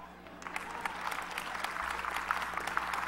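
Church audience applauding at a sermon, a steady crowd clapping at moderate distance, sustained for a few seconds.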